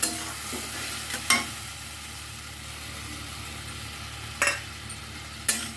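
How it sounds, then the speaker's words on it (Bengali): A spice mixture stirred and fried in oil gives off a soft, continuous sizzle, with a few sharp scraping knocks of the spoon against the pan at intervals. "এইবার এই মিশ্রণটা আমি তেলের মধ্যে দিয়ে দেব। এটা ভালো করে কষিয়ে নিতে হবে।"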